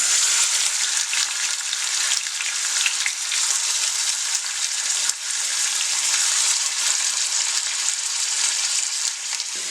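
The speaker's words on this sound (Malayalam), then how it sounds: "എണ്ണ ചൂടായിട്ടുണ്ട്. അതിലേക്ക് ചിക്കൻ പീസസ് ഇട്ട് കൊടുക്കാം." Chicken pieces fry in hot coconut oil with a loud, steady sizzle that crackles continuously without pause.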